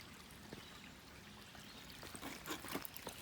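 A small river at a hiking-trail crossing, running high after heavy overnight rain, with water trickling and pouring over rocks; a faint, steady babbling flow that picks up slightly toward the end, with no talking.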